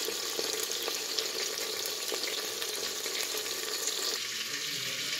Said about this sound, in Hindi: तो आप देख सकते हैं कि चिकन हमारा फ्राई हो रहा है